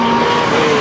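A GT race car brakes hard at the Dijon-Prenois circuit, giving a brief loud engine roar with a tonal whine and a hint of tire scrub.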